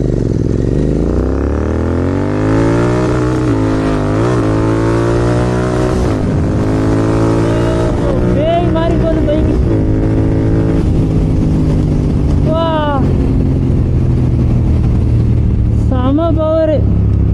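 A GT motorcycle's engine, running hot, drones loud and close while being ridden, its pitch sliding up and down with throttle changes, and a rider's voice talks over it in the later part.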